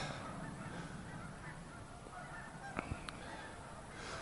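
Tundra swans honking along a river, a steady wash of distant flock calls under broad outdoor noise, with a couple of brief nearer honks standing out near the end.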